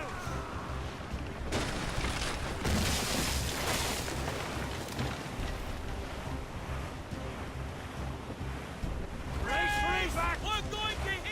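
Wind-filled sails of a sailing ship in Assassin's Creed Rogue, a steady roar of surf, wind and rushing water at sea, with bursts of louder wash and brief tonal calls near the end.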